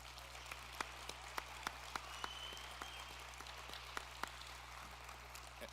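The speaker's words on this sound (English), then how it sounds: "Let's give them a round of applause also." Faint applause for the families at an EMS graduation, heard as sparse, scattered claps standing out over a quiet room with a steady low hum underneath.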